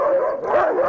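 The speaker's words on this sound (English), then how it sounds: "Here you can meet the sled dogs of Denali." Sled dogs, huskies kept in Denali, bark and howl together in a dense, loud, continuous chorus of overlapping canine voices, close by.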